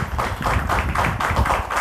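An audience claps to welcome speakers at a satsang gathering, a steady rhythmic patter of many hands that stays close and fairly loud throughout.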